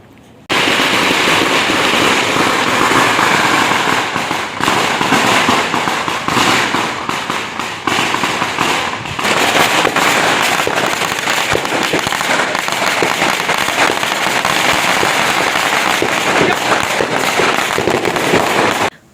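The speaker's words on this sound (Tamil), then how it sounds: "அப்போவுமே வெடி சத்தம் அப்படி சூப்பராக இருந்துச்சு" Dense, continuous crackling of Diwali firecrackers and fireworks bursting at an apartment in Penang, Malaysia, loud and rapid like gunfire, with no letup.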